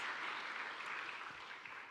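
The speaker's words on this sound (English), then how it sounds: "One more applause for him, please." Audience applause at a live community show, a dense wash of many hands clapping that stays steady and fairly distant, gradually easing off, with no talk over it.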